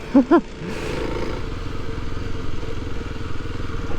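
A motorcycle rolls steadily through loose sand, its engine holding a continuous mid-level drone after a couple of short, louder bursts at the start.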